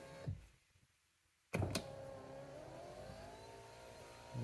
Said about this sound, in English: Window goes down.